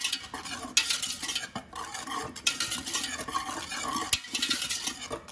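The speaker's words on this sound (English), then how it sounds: "I'm taking a stiff whisk and I'm going to whisk all of this together." A stiff whisk stirs and scrapes through dry ingredients for mustard pickles in a bowl, giving a steady, close run of brisk scratchy strokes with a few sharper clinks against the bowl.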